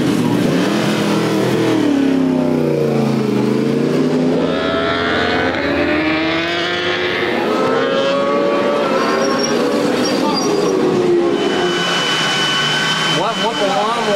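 Racing motorcycle on a circuit during a race, engine note rising and falling loudly through gear changes as it passes, with a rider's voice talking over it.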